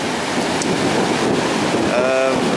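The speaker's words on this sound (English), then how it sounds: "Fuck you, ocean." Ocean waves at Terrigal Beach roar as a loud, continuous wash of surf, heavily mixed with wind buffeting the microphone.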